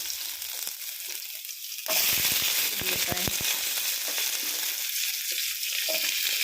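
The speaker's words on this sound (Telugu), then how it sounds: "కొంచెం క్యారెట్ వేగనిచ్చుకున్నాం" Chopped carrots and green chilies go into hot oil with a tempering of cumin seeds in a pan. A loud sizzle bursts in suddenly, with sharp popping crackles that settle into a steady frying hiss.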